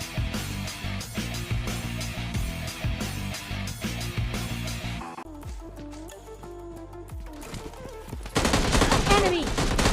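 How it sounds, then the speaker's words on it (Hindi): M16 rifle fire in a video game: dense, rapid bursts of gunfire crackle loudly for about five seconds, a brief lull follows, then another loud burst erupts near the end. "तो बस देखना कैसे निपटाएंगे M16 से"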